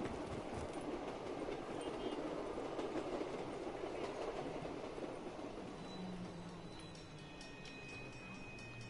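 A train rolls steadily in the video game Call of Duty Black Ops 3, a continuous rumbling clatter of wheels and cars that holds for several seconds before easing slightly, with no talking over it.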